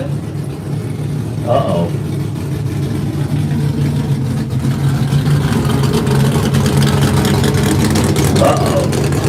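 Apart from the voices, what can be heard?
2004 Chevrolet pulling truck engine at truck pull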